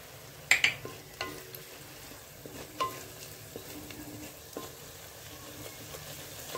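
Onion and tomato sizzle in a pan as a spicy chutney tempering is stirred in for bajra amti. Soft scraping strokes sit over a steady low frying hiss, with no talking.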